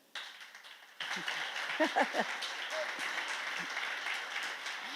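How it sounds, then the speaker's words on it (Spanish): A church congregation breaks into applause during a sermon: after a quiet start, many hands clap in a sustained, moderately distant patter, with faint voices mixed in. "iba a aplaudir, apláudele"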